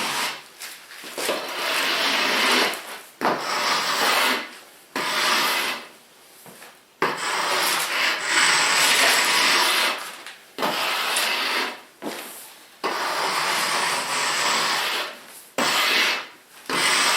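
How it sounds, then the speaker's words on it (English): A gauge rake is pushed and pulled through freshly poured rapid-setting flooring material, making repeated loud scraping, rasping strokes separated by short pauses. "We're just going to move the gauge rake, get all of our placement of our material."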